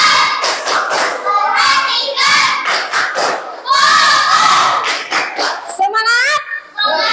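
Schoolchildren in a classroom perform the 'tepuk fokus' clapping chant, a loud group of young voices shouting in rhythm with bursts of hand claps and thuds filling the whole stretch.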